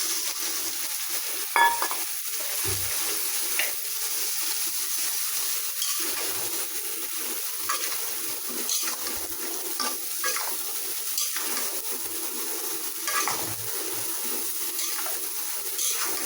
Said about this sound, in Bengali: মশলা দিয়ে সাইজনা কষাইছি